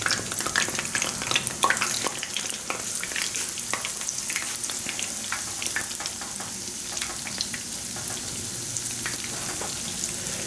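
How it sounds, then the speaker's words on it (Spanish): Picarones, Peruvian sweet-potato doughnuts, frying in hot oil with a steady, dense crackling sizzle and scattered pops, close and continuous throughout, with no talk. "Y así vamos a ir friendo los picarones hasta que se doren."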